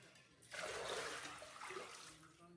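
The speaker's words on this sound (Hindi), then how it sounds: "ये हमने डाल दिया पानी" Water poured out of a clay pot at a shrine, a sudden close splashing gush that starts after a short quiet moment and keeps spilling steadily before easing slightly toward the end.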